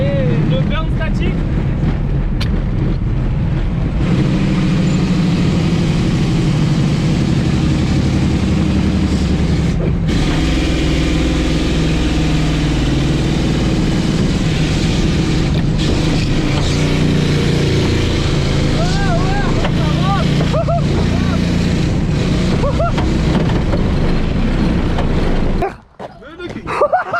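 A Peugeot 206 car doing a static burnout in a field, engine droning and revving hard and close for a long stretch with creaks and scraping, people talking and shouting over it, then a sudden drop near the end.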